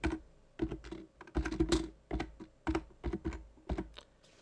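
Rapid keystrokes clatter on a computer keyboard in short irregular bursts, close and fairly clear, with brief pauses between runs of typing.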